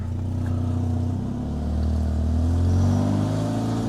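A front-wheel-drive four-cylinder car engine revs hard while stuck in mud at a junkyard, a steady low drone that swells and climbs in pitch midway, then holds loud and close.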